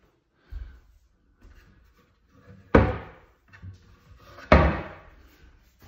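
A kitchen cabinet door swings shut twice with sharp, solid thuds, the second slightly stronger, preceded by softer handling knocks in an otherwise quiet room.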